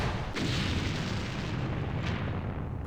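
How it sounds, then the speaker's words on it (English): Artillery fire in the Vietnam War strategy game Campaign Series Vietnam, at the Battle of Ba Ria 1968: a sharp boom lands early, followed by rumbling blast noise and a second fainter burst, with no talk. "Oh, we took it out with the artillery"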